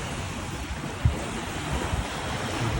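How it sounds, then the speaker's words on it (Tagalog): Heavy surf from a strong sea rolls onto a sandy beach in Bicol, producing a continuous broad wash of breaking waves with a faint wind rumble and no voices. "Grabe alon."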